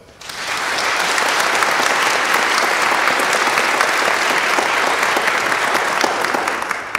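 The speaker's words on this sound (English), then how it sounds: "Let's have a round of applause for them." At a Texas A&M Century Singers spring choir concert, a large audience breaks into a loud, dense round of applause. It swells quickly from quiet and holds steady for about six seconds, with no speech on top.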